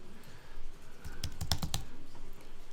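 Computer keyboard arrow keys pressed in a quick cluster of sharp clicks over a faint room hum, several taps close together near the middle, without any talk.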